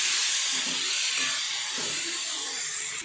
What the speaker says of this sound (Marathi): ही घालून देते आता छान परतून घेतो गवार